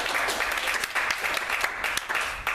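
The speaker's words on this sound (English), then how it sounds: "So can we give Chris a round of applause?" An audience at a coaching workshop applauds steadily for about two and a half seconds, a dense, even patter of clapping at close range with faint cheering mixed in.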